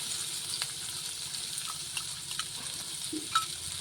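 Onions frying in mustard oil in a karahi after fish has been fried, a steady crackling sizzle with a few brief clinks and stirring sounds on top, heard close with no talking.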